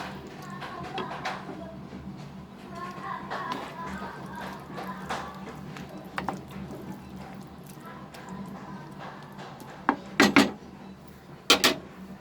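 A spoon clinks and scrapes against a pan as garam masala is stirred into mixed vegetables, with soft intermittent stirring noises and a few sharper metallic taps near the end.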